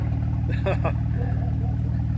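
A 2008 Jeep JK with a 3.8 liter V6 and a Flowmaster muffler delete idles with a deep, steady, even exhaust pulse, close and constant, while a person briefly speaks over it.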